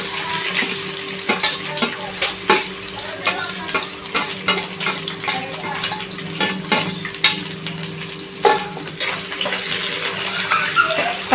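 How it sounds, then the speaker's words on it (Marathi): Finely chopped onion fries and sizzles in a pan for upma while being stirred, a steady close crackle broken by scraping strokes of the spoon. "कांदा पण छानपैकी फ्राय करून घ्यायचा आहे."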